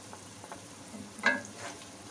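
A spoon stirs ground masala mixed with yogurt in a pan while making mutton kofta curry, giving a quiet low sizzle and one brief scrape near the middle, with no talking.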